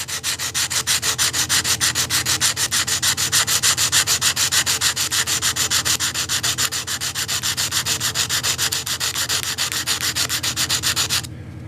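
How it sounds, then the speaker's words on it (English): A screwdriver's flat sections are rubbed with coarse, aggressive sandpaper wrapped on a dowel stick, a loud steady rasping in fast, even back-and-forth strokes that runs close up without a break for several seconds before stopping abruptly. "I got a piece of really aggressive sandpaper and a dowel stick. I'm using that to work on these flat sections."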